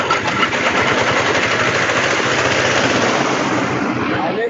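A waste-grinding machine chews through market refuse collected for black soldier fly maggot farming, a loud, continuous rattling mechanical roar that runs unbroken from start to finish without speech.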